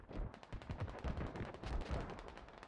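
Rapid bursts of rifle and machine-gun fire from a Squad firefight, a grenadier putting rounds downrange, crackle in dense overlapping volleys at moderate distance with no voices over them.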